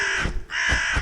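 A crow caws in a cartoon with two loud, harsh, close calls in quick succession and a short gap between them.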